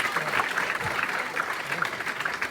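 Audience at a BAPS Hari Jayanti festival in Clifton applauding: dense, steady clapping from a large crowd, sustained throughout and filling the hall.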